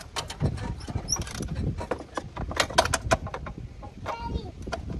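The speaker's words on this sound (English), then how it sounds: "All right, ratchet from the other side." A ratchet clicks in short bursts while a belt is being replaced on a John Deere E100 riding mower, the rapid mechanical ticks close by and mixed with rustling and handling noise outdoors.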